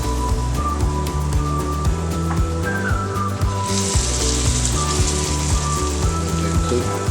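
Hot water cornbread batter fries in hot oil, giving a steady, dense sizzle and crackle with a brighter hiss swelling partway through, while a faint tonal hum runs underneath.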